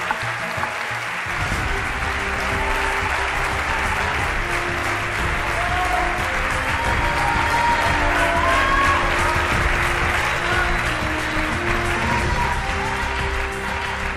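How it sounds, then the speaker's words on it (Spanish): A theater audience applauds ten dancers on their final joint appearance onstage, with a broad, dense wash of clapping that stays loud and steady for the whole stretch, some crowd voices mixed in. "Un aplauso, por favor."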